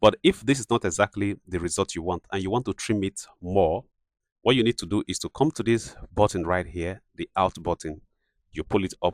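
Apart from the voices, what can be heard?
No everyday noise stands out behind the speech.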